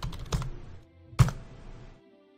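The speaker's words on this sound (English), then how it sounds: "Typing it in chat right now." Typing on a computer keyboard during a livestream, a brief burst of key clicks with two sharper taps, close and fairly quiet, with no talk over it.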